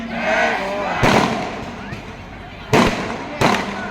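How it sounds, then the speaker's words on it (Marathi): Firecrackers bursting outdoors during a political election rally in Kalwa, Mumbai, three sharp loud bangs spaced a second or two apart, heard over a public-address voice talking to the crowd. "अरे बाबा फटाके 23 तारखेसाठी ठेवा,"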